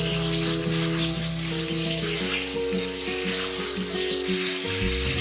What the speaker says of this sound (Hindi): हम इसके अंदर गोश्त ऐड कर देंगे और अच्छी तरह फ्राई करेंगे।